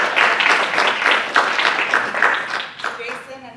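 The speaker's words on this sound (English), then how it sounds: "Let's give yourselves a round of applause." A workshop audience at a student leadership academy applauding themselves, brisk clapping from a group that swells and then thins out toward the end as a voice begins to speak.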